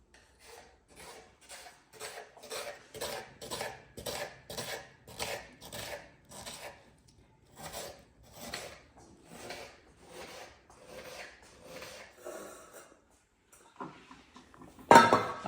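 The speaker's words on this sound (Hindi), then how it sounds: "बारीक बारीक प्याज काटना है बिल्कुल।" Onions are finely chopped with a knife on a board, making a long, even series of rhythmic strokes in bursts, closely miked, with a louder knock right at the end.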